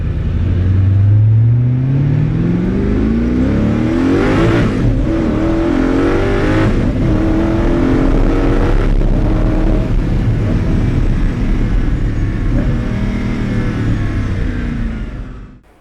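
Koenigsegg supercar rated at 1,100 horsepower accelerating hard on a track straight, its engine note climbing loud and close through rising gears with brief shift breaks, a sustained roar that holds to the end.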